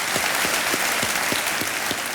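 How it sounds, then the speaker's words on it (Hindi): Studio audience applauding on a televised Hindi quiz show, a steady wash of clapping throughout with no talk over it. "बहुत बहुत बधाई और तालियों के साथ"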